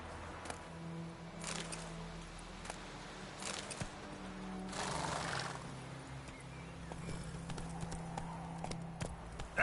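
Roach, the horse in The Witcher 3, clip-clops along at a walk, with steady hoofbeats close by and faint ambient game sounds underneath.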